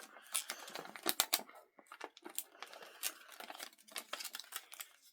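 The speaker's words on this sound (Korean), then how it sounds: "여기도 똑같이 접어줍니다" Paper being folded and creased into a paper spinning-top, repeated crisp crinkles and rustles in quick irregular bursts, close and fairly quiet with no talk.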